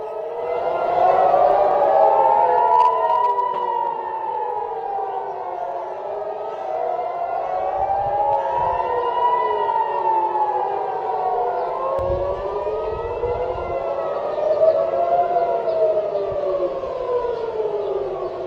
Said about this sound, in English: we are hearing sirens over Tel Aviv in Israel again